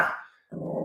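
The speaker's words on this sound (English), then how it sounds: "I have a dog barking." A dog gives a single close, loud bark that trails off, then a low growl follows right after.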